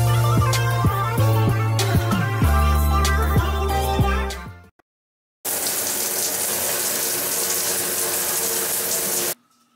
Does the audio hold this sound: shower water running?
yes